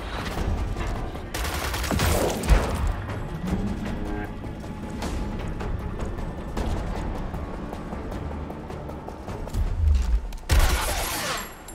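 Gunfire in the video game Gears Tactics comes in repeated bursts of sharp rifle shots and heavy booms, loud and close, with thuds and a swelling rumble through the middle and another volley near the end.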